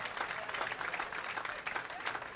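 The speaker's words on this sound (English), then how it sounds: "That's the well-deserved round of applause you're hearing right now." Crowd applause for a perfect 300 game at a youth world bowling championship, dense sustained clapping from a distant audience that stays steady and fairly faint throughout.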